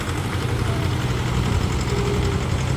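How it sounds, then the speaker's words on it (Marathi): A tractor engine runs steadily in a muddy paddy field as it comes free of the mud, a deep, continuous rumble and low vibration, loud and unbroken throughout. "आणि फायनली ट्रॅक्टर बाहेर आलेला आहे"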